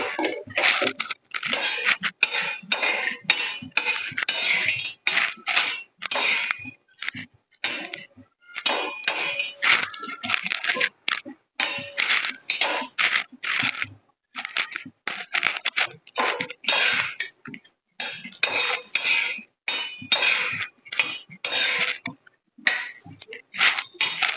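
Sugar puran being stirred in a pan, with a rapid series of metallic clinks and scrapes as a spoon strikes and drags across the pan, coming in rhythmic bursts with brief pauses.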